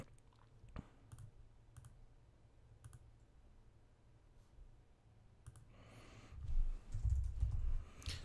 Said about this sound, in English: So I start typing Client X.